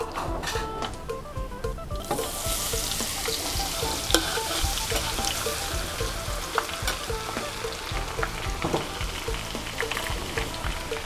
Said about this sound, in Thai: ขั้นตอนต่อไปนะคะ เราก็จะเอากระเทียมมาเจียวโตนะคะ